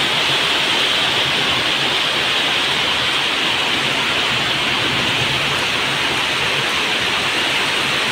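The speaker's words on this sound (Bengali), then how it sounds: "এত পরিমাণ বৃষ্টি হচ্ছে, দেখেন বৃষ্টিতে মানুষ গোসল করতেছে, সব শুধু পানি আর পানি।" Torrential rain with gusty wind and hail beats down continuously, a loud, dense roar of water with no pauses and no voices.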